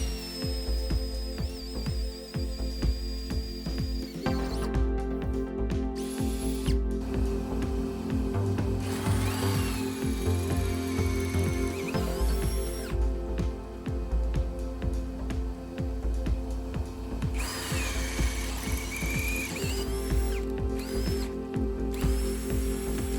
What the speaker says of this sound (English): I proceeded to drill the rest of the mounting holes.